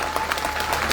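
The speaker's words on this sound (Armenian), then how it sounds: "այստեղ ծափահարություններով հրավիրենք" Crowd at an outdoor political rally in Gyumri applauds steadily, a dense, loud wash of clapping throughout.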